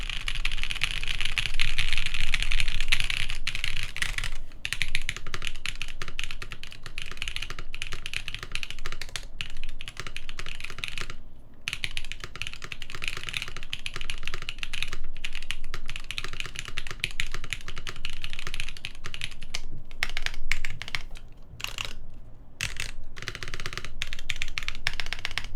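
Typing on a CannonKeys Chimera65 mechanical keyboard with ABS keycaps, a close, dense, continuous patter of keystrokes with a few short pauses, steady and alone.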